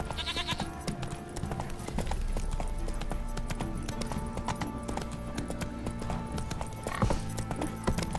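A horse's hooves trot in The Witcher 3 video game, a steady clip-clop woven into dense in-game music and ambience, moderately loud throughout.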